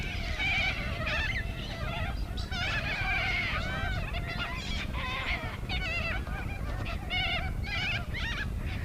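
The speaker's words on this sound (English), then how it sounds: "Come breeding time in late winter, the flocks break up and the corella couples start looking for nesting hollows." Flock of corella cockatoos calling during breeding season in late winter, a dense, continuous chorus of harsh overlapping squawks and screeches, loud and close throughout.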